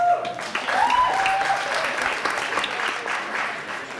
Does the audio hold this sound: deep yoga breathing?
no